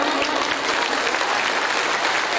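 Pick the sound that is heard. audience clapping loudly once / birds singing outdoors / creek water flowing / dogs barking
audience clapping loudly once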